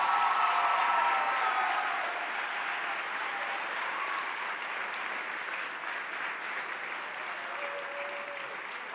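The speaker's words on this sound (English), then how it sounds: "give them a round of applause" A dinner audience at Good Citizen Day 2026 applauds two professional photographers, a dense, even wash of clapping from many people that starts strong and eases slightly while continuing for the whole stretch.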